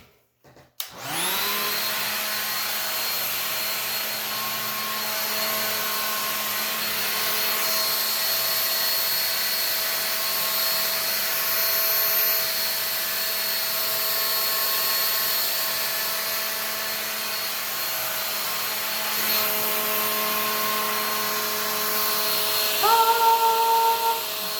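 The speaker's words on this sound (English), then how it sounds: "I know you can't hear me, so I'll finish blow drying on my own," A hair dryer running steadily while blow drying long relaxed hair, a loud, even whine that starts abruptly and holds for over twenty seconds with slight shifts in pitch near the end.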